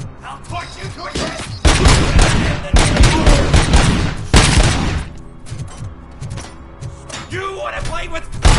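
Dense bursts of automatic gunfire and loud booming shots from the RoboCop: Rogue City video game, in rapid volleys with brief lulls, while voices shout over the action.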